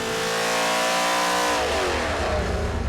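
Championship race engine on a dyno during a pull with timing at 35 degrees, a loud close roar climbing steadily in pitch as revs rise toward 7,000 rpm, no talk.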